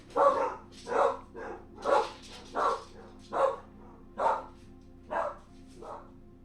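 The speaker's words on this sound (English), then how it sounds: "I'm assuming somebody's at the door because both dogs are going" Two dogs bark at someone at the door, about nine steady, evenly spaced woofs, fairly close and with no talking.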